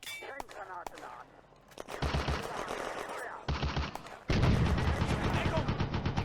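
A heavy machine gun fires from a building at a city-centre intersection in a WWII Eastern Front video game battle. Rapid sustained bursts build up loud and close, mixed with other gunfire and scattered game voices.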